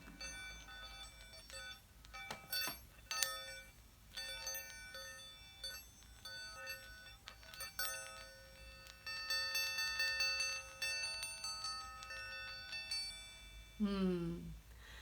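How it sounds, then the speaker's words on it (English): A small bell toy is rung again and again, giving bright, tinkling chimes with sharp strikes and lingering ringing, and a brief voice comes in near the end. "bell toy, as part of a trade for my book."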